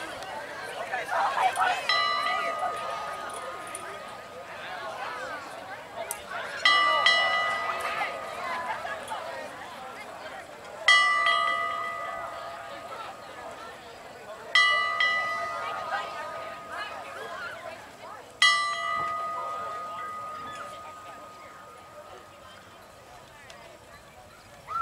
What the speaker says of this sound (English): Players, please ring the bells.